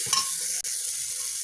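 Tomato with spices fries in a pan for a moong dal with fish head, making a continuous bright hiss. Soft stirring knocks sit under it, with a brief break partway through.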